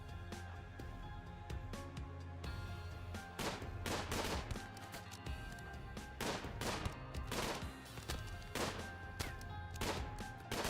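Shotgun blasts ring out in a video game firefight, a loud burst of repeated shots in uneven clusters with short gaps, punctuated by impacts.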